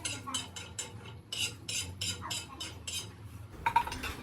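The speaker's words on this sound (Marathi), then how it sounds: "गॅसवरती तवा ठेवून मी वाटणासाठी थोडंसं तीळ भाजून घेतले पहिल्यांदा." Sesame seeds dry-roasting on a griddle over a gas flame, a series of soft, scratchy bursts of stirring and light popping with short gaps, close and fairly quiet, a sharper clink near the end.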